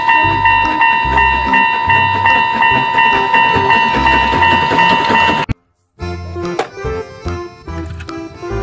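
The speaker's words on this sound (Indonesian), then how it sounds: "Kereta Thomas." A toy Thomas train runs loudly with a steady mechanical whir and a bright, sustained tuneful toy sound, cutting out abruptly for a moment before starting again with clicks and rattles.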